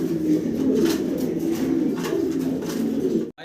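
Pigeons at a seller's stall, including Lahori and Sirazi birds, coo in a dense, close, continuous chorus of low rolling calls that cuts off abruptly at the end.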